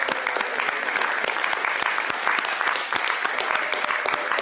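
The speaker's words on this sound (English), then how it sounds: "This is applause time." Members of a city council meeting crowd applaud community brigade volunteers, a continuous patter of many hands clapping with sharp individual claps throughout, loud and close for the whole stretch.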